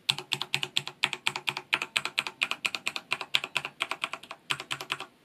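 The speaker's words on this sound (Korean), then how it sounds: "일반적으로 타이핑할 때" Keys clatter on a Corsair K68 RGB keyboard with Cherry MX Red switches, a close, fairly soft burst of rapid, uneven keystrokes typed at normal strength with short pauses between words.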